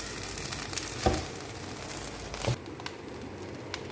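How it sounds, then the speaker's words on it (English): Fried rice sizzling in a pan with soy sauce stirred through it, a steady close frying hiss broken by two louder scrape-like knocks of the stirring utensil, the sizzle dropping away near the end. "We are still stirring so that it will mix very well and get the color"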